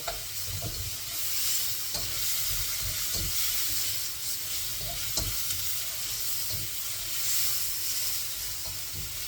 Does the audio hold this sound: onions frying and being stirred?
yes